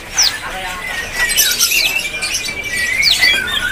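A trotol kacer magpie robin sings loudly in open, full-voiced phrases at a bird kiosk, bright whistles and rising sweeps recurring over steady background chatter, with people talking nearby.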